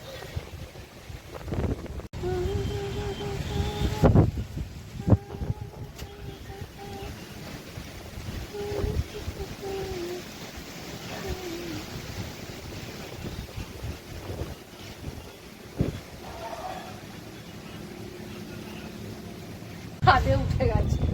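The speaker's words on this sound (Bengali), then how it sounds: "ভালো ঝড় দিয়েছে" Strong storm wind on an open balcony or rooftop where laundry is hung, with gusty buffeting rushes and flapping throughout, loud wind noise under occasional voices.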